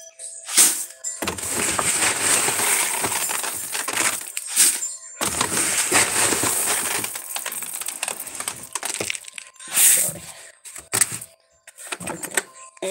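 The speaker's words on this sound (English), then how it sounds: "we're going to load up some black oil sunflower seeds for the ducks" Black oil sunflower seeds pour and rattle into a container as feed for ducks, a dense gritty rushing in two long bursts with brief pauses and a few clinks.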